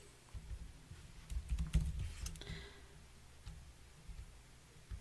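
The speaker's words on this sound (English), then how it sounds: "just while I'm doing this bit of typing" Someone types on a computer keyboard, a soft pattering of clicks with a denser flurry of keystrokes in the middle and sparse, fainter taps after it, close and alone.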